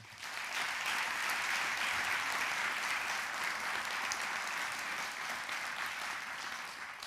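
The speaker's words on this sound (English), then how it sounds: "Please give a round of applause to Bob Kerr." Audience applause for Bob Kerr, a presenter who runs workshops with WICB student broadcasters, fills the room as steady, dense clapping from a large crowd that holds at full strength for about seven seconds without voices.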